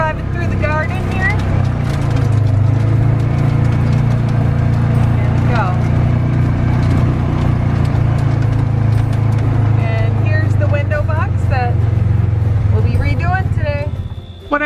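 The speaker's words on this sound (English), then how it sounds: "we are back home, driving through the garden here" A car drives home through a garden, its engine producing a steady loud low rumble throughout, with a person talking over the top of it.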